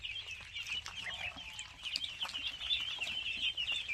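A flock of native-breed ducks on a duck farm make a busy, continuous commotion of overlapping calls and chatter. The sound is close and fairly faint, with no talking.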